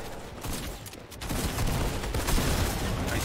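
Gunfire from the video game Fortnite comes as a dense, continuous burst of game combat noise, loud and sustained, with a brief dip before picking back up.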